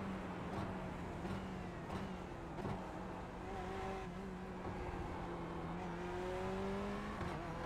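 A race car in a racing video game whines at high revs in a continuous engine drone that climbs and falls in pitch through gear changes, fairly faint and steady.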